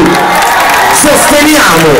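A festival concert crowd at Savignano Irpino roars with loud, sustained cheering, whoops and clapping close by, a dense, saturated wall of sound with shouting voices mixed in.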